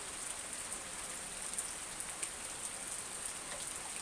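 Steady rain falls on a surface in Nakhon Pathom, Thailand, a continuous hiss with scattered individual drop taps, no voices.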